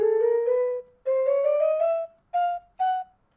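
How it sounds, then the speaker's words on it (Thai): Minecraft note blocks on clay play the game's flute sound: four clean, airy whistle-like tones, each a little higher than the last. The first two are held longer and the last two are short, with no talk over them. "เคลเป็นเสียงฟลุตนะครับ ฟลุตหรือว่าคลุย คลุยฝรั่งนะครับ"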